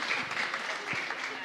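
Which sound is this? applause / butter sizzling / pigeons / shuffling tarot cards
applause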